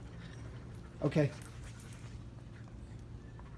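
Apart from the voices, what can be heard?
German Shepherd dog panting and whimpering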